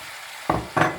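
Fresh vegetables for a gratin frying in a pan, a steady sizzle broken by two louder scraping stirs, close up and brief.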